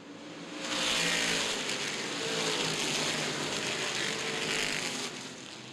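Stock cars racing at the 2013 Winchester 400 just after the green flag: a broad, fairly distant roar of engines that swells and holds for several seconds before easing off, with no talking.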